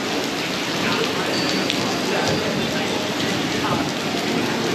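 Heavy tropical-storm rain in Florida pours down as a loud, constant wash of hiss and spatter on surfaces, filling the whole span without letting up.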